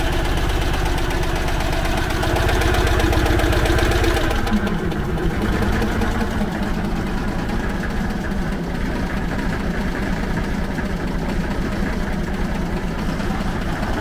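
A Citroën 2CV two-cylinder engine idling after four months of winter storage, a loud steady close chugging drone that settles slightly lower and rougher after a few seconds, no voices.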